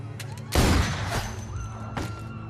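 A gunshot bursts out amid the zombie action of The Walking Dead: A New Frontier video game, a loud close blast with a decaying crash, then a second fainter shot about a second and a half later over a steady game hum.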